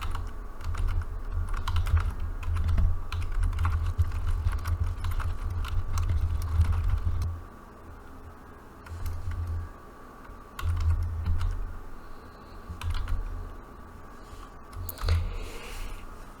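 Fingers type steadily on a computer keyboard while writing in word-processing software, producing a close, continuous patter of key clicks with brief pauses and no speech.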